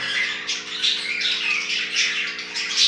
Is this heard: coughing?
no